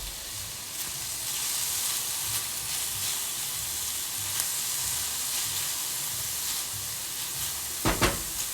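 Green onions and cabbage sizzle in a pan for a garlic ramen stir fry, giving a steady, moderately loud crackling hiss that holds for several seconds and ends with a brief louder clatter near the end.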